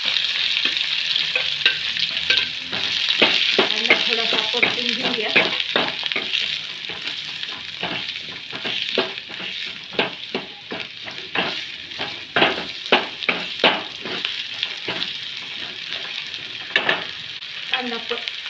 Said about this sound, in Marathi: कांदा परतत आहे